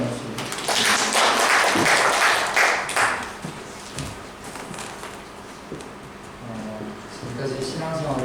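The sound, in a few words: congregation applause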